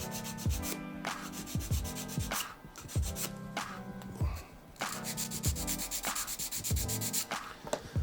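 Sandpaper rubbed by hand over a small part of a homemade miniature filming model, in repeated back-and-forth rasping strokes, close and steady with brief pauses between passes.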